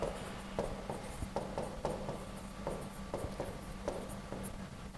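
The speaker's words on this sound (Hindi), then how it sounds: "अब मैंने तीसरा से थर्ड सेंटेंस लिख दिया" A sentence is written by hand on paper: quiet scratchy pen strokes with regular small taps at each word, close and faint, with no talking.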